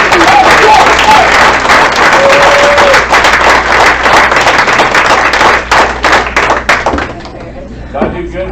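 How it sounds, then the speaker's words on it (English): Wild applause and cheering from a crowd at a 1966 class 50th reunion, a loud, dense clapping roar that holds steady for several seconds before thinning out, with voices mixed in. "is wild applause."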